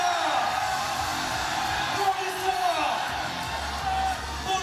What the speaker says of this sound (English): You can hear the crowd yell, Pana, Pana.